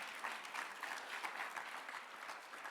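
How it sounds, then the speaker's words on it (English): An audience at an educators' institute kick-off event applauds teachers, a steady wash of many hands clapping, fairly distant and even throughout with no talk over it. "you deserve a round of applause"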